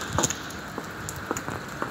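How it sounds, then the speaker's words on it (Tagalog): Steady outdoor rain on a cold morning, a dense soft hiss with scattered close drips and patters, no talk. "grabe, ang lamig na, umuulan"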